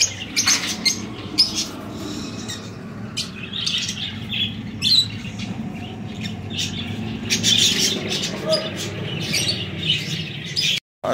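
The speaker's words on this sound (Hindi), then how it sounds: "प्यारे प्यारे परिंदे तोते हैं माशाल्लाह से।" Pet parrots give repeated bright squawks and chirps throughout, scattered calls over a steady low background hum, fairly close, with no talking.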